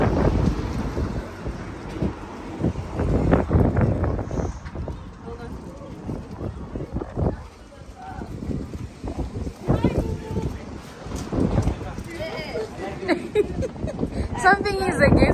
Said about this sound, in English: Since the other day, it's just been windy.